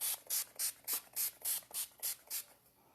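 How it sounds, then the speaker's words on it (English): Setting spray mists onto a face in about ten quick, evenly spaced hissing pumps, close and fairly soft, with no voices. "let me put on my setting spray so I quit smearing it"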